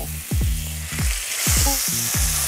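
Steady hot-oil sizzle of kimchi stir-frying in a pan, with a few sharp scraping clatters of a utensil against the pan. No talking.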